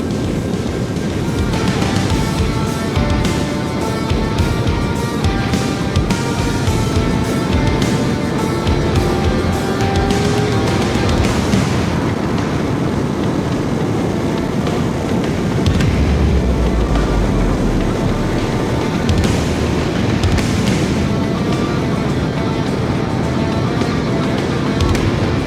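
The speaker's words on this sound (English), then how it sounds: "You notice, see also, that exhaust does sound slightly different, which is really cool." A Ducati Multistrada Pikes Peak motorcycle's exhaust roars steadily while riding, a continuous loud engine drone mixed with heavy wind rush across the microphone, with no speech.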